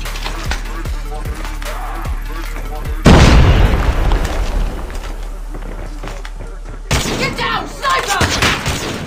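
A frag grenade goes off in a first-person shooter game, one loud booming blast partway through with a rumbling tail, amid rapid gunfire and game voice callouts before and after.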